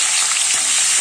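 Cut bitter gourd hits hot oil in a pan, giving a loud, dense, continuous sizzle that stays steady and close throughout.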